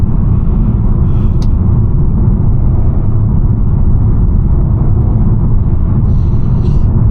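A 2021 Mercedes-Benz A250 with a 226 hp engine and seven-speed AMG Speedshift gearbox drives downhill on a two-lane road, with a loud, steady low road-and-engine rumble from inside the cabin and no voices.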